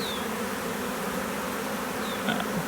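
Steady, dense buzzing of a honeybee swarm in a swarm box, continuous and fairly close, with a few individual bees droning past.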